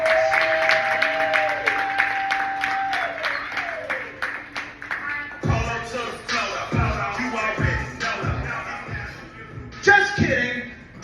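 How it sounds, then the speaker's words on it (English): An audience claps for a comedian at a comedy show in a bar venue. A dense patter of hands builds after a stretch of voice and tones and carries on to the end. "Please put your hands together, clap it up and show some love for my bro."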